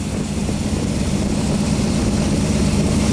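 A Chevy 350 fitted with a Holley carburetor idles steadily with a low, throbbing rumble, loud and continuous from start to finish, with no talking.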